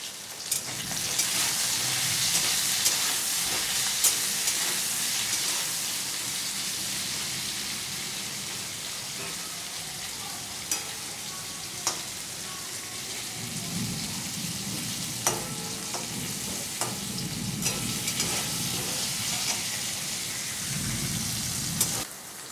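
Pumpkin pieces fry in a pan as a steady sizzling hiss, with the crackle running continuously close by and faint stirring bumps and low clatter now and then; no one speaks.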